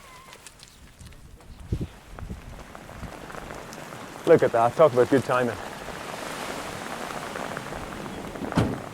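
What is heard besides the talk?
rain falling on the Isle of Vatersay, Hebrides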